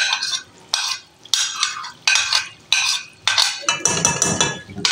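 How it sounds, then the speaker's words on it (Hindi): A spoon scrapes and stirs masala frying with whisked yogurt in a pan for fish curry, giving about eight rhythmic scraping strokes over a soft sizzle, up close and without talk. "अब इसकी हम अच्छे से करेंगे भुनाई।"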